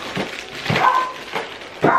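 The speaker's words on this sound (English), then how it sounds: "That's my dog screaming as always." A dog yelps and whines in short bursts, three or four high cries spread over a couple of seconds, fairly close and loud, indoors during an unboxing.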